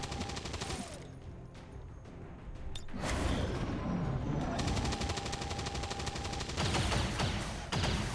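Sustained suppression fire in the video game XCOM Long War rattles loudly in long automatic bursts, dense rapid gunfire with booming impacts and whooshes layered over a droning game soundtrack.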